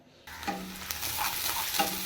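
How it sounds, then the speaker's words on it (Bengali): Red amaranth greens frying in a pan with onion, garlic and dried chilli, a steady close sizzle with occasional stirring scrapes and no talk. "লাল শাকটাও ভাজা করছি পেঁয়াজ রসুন আর শুকনো লঙ্কা ফোড়ন দিয়ে।"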